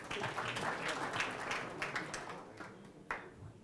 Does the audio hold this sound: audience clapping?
yes